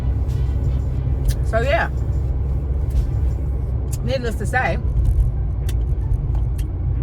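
A car cruising on the road on a long drive, a constant low rumble of engine and road noise with a few brief clicks and rattles, while someone talks over it.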